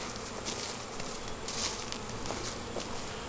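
Honeybees hum in a steady, dense swarm close by as beehives are moved to a new location, with occasional soft rustles and taps beneath the buzz.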